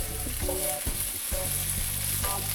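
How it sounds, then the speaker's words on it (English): Dense, crackling sizzle of potatoes frying in a pan, with bursts of stirring and harmonic hum underneath, close and fairly loud. "Judging by the sound of those potatoes, you can just hear it. You can hear the crispiness happening."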